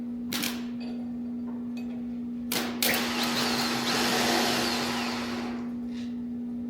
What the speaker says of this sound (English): So the starter motor works.